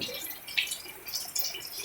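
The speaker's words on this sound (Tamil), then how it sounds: "இப்போ பார்த்தோம்னா மழை சரிமலையாக இருக்குது." Heavy rain pours down outdoors, a steady wet hiss with scattered nearby drips and splashes, fairly faint and continuous throughout.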